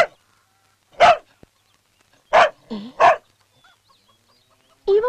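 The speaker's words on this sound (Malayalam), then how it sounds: "പട്ടി ഇത്ര കുരയ്ക്കത്തില്ലല്ലോ" A dog barks at night in three or four loud, separate close barks with quiet gaps between them, and a brief low grunt in between.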